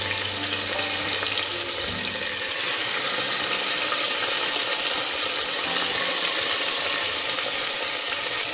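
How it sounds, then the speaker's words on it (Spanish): Pieces of pork loin browning in butter in a pan, giving a steady, close, dense sizzle and crackle that runs unbroken throughout, with no talking. "Posteriormente vamos a agregar nuestros trozos, a dorarlos un poquitín, para sellarlos un poco."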